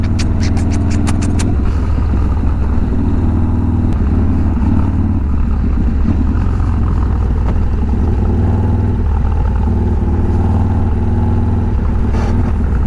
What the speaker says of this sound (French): Ah ouais c'est ça la Harley hein